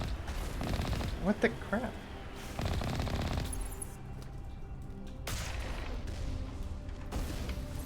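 Gunfire in a video game battle near a bunker, with bursts of rapid shots over a steady game din and a voice exclaiming in alarm.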